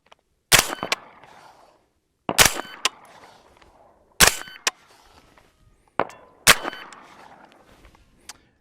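Five sharp, loud rifle shots with Winchester ammunition, fired one at a time at roughly two-second intervals from a CAR 15SD hybrid, each cracking crisply and then trailing off in a short ringing decay.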